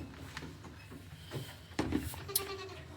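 Goats on a home farm, some with thin coats, bleat a few times across a brief stretch, the calls fairly close and moderately loud against faint background noise.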